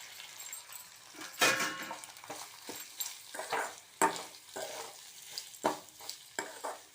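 Grated coconut being stirred into sevai in a pan, with soft scraping strokes and light sizzling that come in an uneven rhythm of close, fairly quiet bursts.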